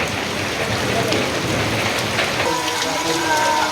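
Steady heavy rain during a rainy-season storm, a dense continuous hiss of drops on surfaces with low distant rumbles of thunder, loud and close.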